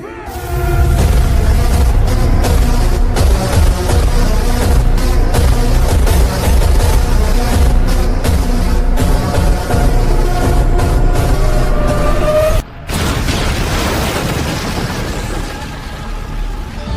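Sustained anime explosion blast from Jujutsu Kaisen, a loud continuous roaring rumble with crackling debris that runs for many seconds, cuts off briefly, then resumes with a softer lingering roar.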